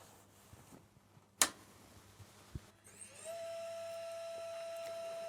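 A sharp click and a thump, then a laser printer in a studio whirs to life with a rising motorized hum that settles into a steady tone, fairly quiet.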